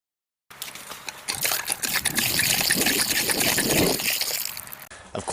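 Water from a hand-operated well pump pours steadily in a splashing, trickling stream, close and fairly quiet, starting after a brief silence and running for several seconds.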